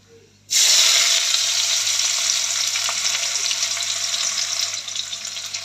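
Onions dropped into hot oil with bay leaves for palak paneer burst into a loud, steady sizzle after a brief quiet start, the crackle easing slightly over several seconds with no voices.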